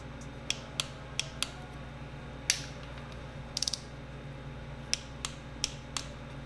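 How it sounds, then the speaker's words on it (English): A torque wrench clicks and ratchets in small, quiet, irregular ticks as lifter tray bolts are tightened down on an engine block during a long block build. "Just gonna torque the trays down."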